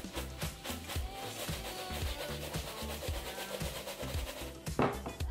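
Breaded chicken pieces are stirred through breadcrumbs in a bowl, making a soft, steady, rhythmic rubbing and scraping at close range with no talking.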